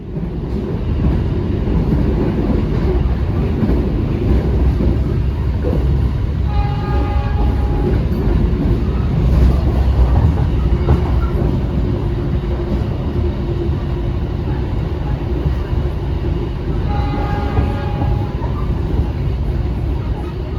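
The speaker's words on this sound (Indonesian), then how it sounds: "kereta api Ciremai melintas langsung stasiun Arjawinangun yang masih berada di daerah Kabupaten Cirebon" A Ciremai passenger train runs straight through Arjawinangun station in Cirebon Regency. It makes a loud, steady rumble with rhythmic wheel clatter for the whole stretch, and its horn sounds twice, around the middle and again near the end.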